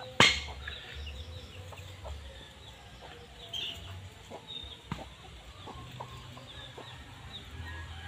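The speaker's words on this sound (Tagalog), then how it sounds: "Ang dami nilang mga manok." Chickens cluck softly at a rural home among a large flock, faint scattered clucks over a low background hum, with a brief sharp noise at the very start.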